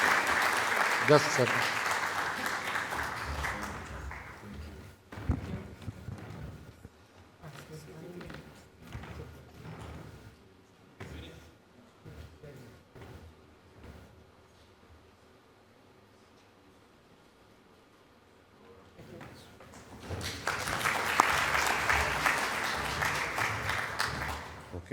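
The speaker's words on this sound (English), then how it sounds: "One applause for our invited." A conference audience in a session hall applauds an invited speaker in two bursts of loud, dense clapping at the start and again near the end, separated by a long quiet stretch with a few knocks, shuffles and a brief voice.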